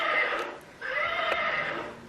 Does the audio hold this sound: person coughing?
no